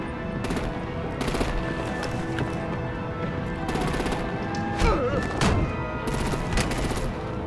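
Artillery gunfire in the game Batman The Enemy Within: sustained rapid bursts of automatic fire rattle close and loud, with a few sharper impacts and clanks mixed into the steady barrage.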